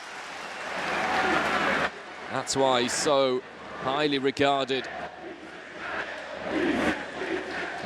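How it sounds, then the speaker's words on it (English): A stadium crowd roars at a football match between Inter and Al Ittihad, a broad wash of voices under a commentator's talk that swells louder near the end. "listen to that roar from the crowd"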